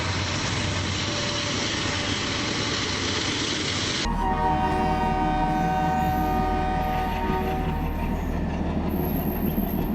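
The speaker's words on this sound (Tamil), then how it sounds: "பக்கத்துல தான் ரயில்வே ட்ராக் இருக்கு. நான் வந்த பிறகு கூட அடிக்கடி ட்ரெயின் போயிட்டு தாங்க இருந்தது." A train rolls along a railway track right beside a house, a heavy continuous rumble with wheel noise and sustained tonal squeal or horn-like lines, loud and close throughout with no talk.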